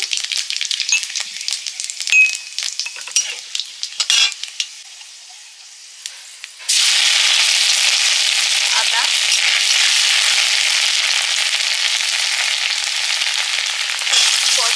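Dry red chilies, bay leaves and panch phoron crackle in hot oil in a kadai, starting as scattered sputtering pops, then swelling into a loud, steady frying hiss that holds to the end with no voices.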